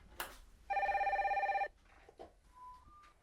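A telephone bell rings in a single burst of rapid, evenly pulsed trills lasting about a second in a sci-fi film scene, followed by faint rustles and a short electronic beep.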